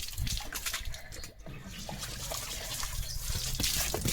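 Water gushes and splashes steadily from a hose while a dog is bathed outdoors, a continuous broad hiss with bursts of spattering, close by and without talk.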